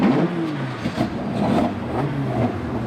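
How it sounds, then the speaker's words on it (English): Pickup racing trucks at Rockingham circuit fire up and rev, their engines blending into a rolling, swelling roar with repeated rising surges at moderate distance. "Gentlemen, start your engines."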